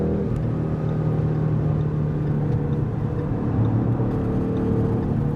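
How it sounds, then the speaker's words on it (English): A 2015 Ford Mustang GT with a V8 engine pulls hard on an autobahn, its steady low engine drone loud and close throughout, with no clearly separate gear shift standing out. "This is where the car shifts."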